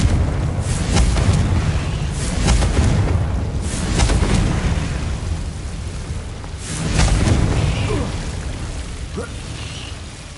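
Confringo blasting spells go off in the Hogwarts Legacy video game as heavy booming explosions, several loud rumbling blasts in sequence with surges near the start and around the seventh second, all close and forceful.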